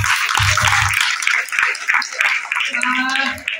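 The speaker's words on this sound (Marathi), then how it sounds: "तर आपण सगळेजण त्यांच्या टाळ्या वाजवून स्वागत करूया।" Brief clapping from the audience at a women's haldi-kunku gathering, welcoming a guest from Ramtek; scattered hand claps under ongoing chatter and crowd noise.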